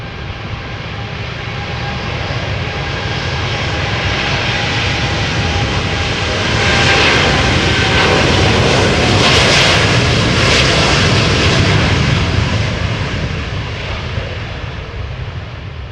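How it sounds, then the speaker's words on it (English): A KLM Boeing 787-10 Dreamliner departs Amsterdam Schiphol in crosswind, its loud jet roar building steadily, peaking near the middle and holding strong before easing slightly, with no voices over it. "It is a 787-10 Dreamliner, the biggest of the family, going to Minneapolis."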